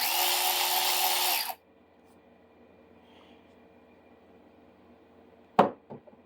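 A cordless ratchet runs in one loud, steady buzzing burst of about a second and a half, then stops, followed by near silence and a couple of sharp knocks.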